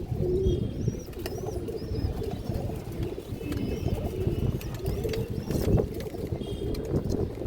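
Cooing from a female pigeon with ringed eyes, one of several pigeon breeds kept for flying, comes through repeatedly under steady low rumbling background noise, with faint higher calls scattered across the stretch.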